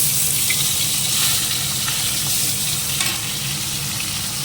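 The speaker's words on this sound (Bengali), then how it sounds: "মাছগুলোকে ভেজে নিই বেগুন দিয়ে" Fish pieces with eggplant frying in hot oil in a kadai, giving a steady, dense sizzle that runs close and loud throughout, with faint scrapes and splashes now and then.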